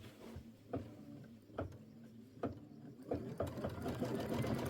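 A sewing machine stitching a placement line on a quilt block, running with a steady mechanical whir and regular clicking thumps that grow slightly busier toward the end.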